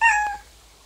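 A cat pet in the Star Stable video game gives one short, clear meow that fades quickly, heard alone.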